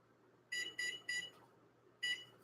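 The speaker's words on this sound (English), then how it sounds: "We're going to set a timer for 45 minutes." A kitchen timer being set for 45 minutes while baking a jalapeño-cheddar corn pudding gives four short, bright electronic beeps, three in quick succession and one after a pause, faint over a low hum.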